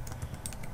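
Quick, close taps on a computer keyboard form a brief burst of several light clicks in rapid succession.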